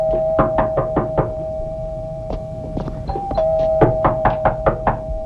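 Repeated sharp knocks on a door come in several quick bursts of three to five raps, close and firm, over a steady electrical hum.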